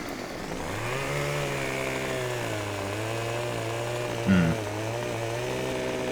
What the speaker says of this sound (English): Is it me or does this chainsaw sound different to all the other makes which are on Farming Simulator?